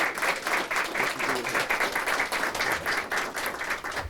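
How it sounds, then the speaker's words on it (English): An audience at a mayor's press conference applauds in a steady, moderately loud burst of mixed clapping that carries evenly for several seconds. "Give him a round of applause."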